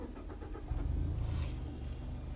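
A 2018 Mazda 3 engine cranks and catches, a short starter whir giving way to a low, steady idle rumble heard close by with no talk.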